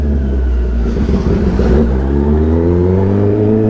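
A modified Kawasaki ZX-10R sport motorcycle engine, nearby and loud, revving up and settling into a deep rising idle drone with strong low harmonics that climb and hold steadily.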